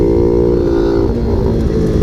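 A pocket bike fitted with an electric turbo revs steadily up close, its engine droning loud and unbroken throughout.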